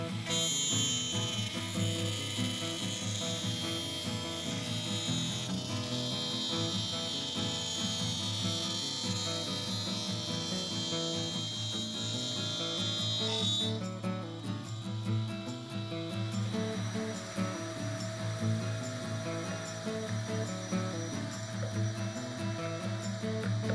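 A router bit cutting grooves into wooden pieces for a sofa table, a steady high-pitched motor whine with shifting cutting tone, loud and continuous throughout, changing character partway as the cut ends.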